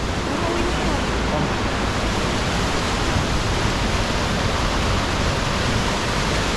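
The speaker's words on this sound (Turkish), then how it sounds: "Şu çağlayan suyun güzelliğine bakın." Rushing water of a stream in the Şuğul Valley in Türkiye, a loud, dense, continuous roar filling the whole span like a cascade heard up close, steady with no break and no clear talk over it.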